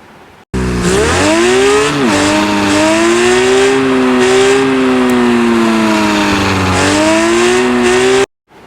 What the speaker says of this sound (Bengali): গাড়ির সাউন্ড তো শুনলাই